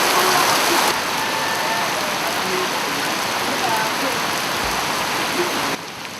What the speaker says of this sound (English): The next day the rain is heavier